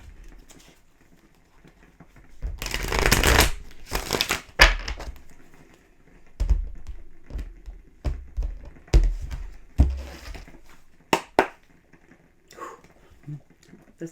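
Tarot cards are shuffled in a few loud, crisp riffling bursts, followed by scattered taps and soft card handling, with no talk.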